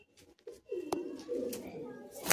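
Madras pigeons give soft, close cooing calls in short bursts, with a few brief clicks and rustles around them.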